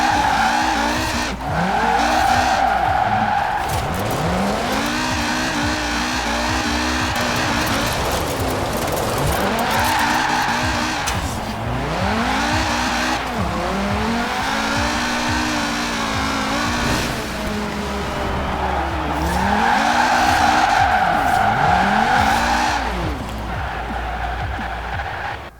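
Car drifting in Forza Horizon 4, with sustained tire squeal sweeping up and down over a steady, loud engine drone through repeated slides, no talking.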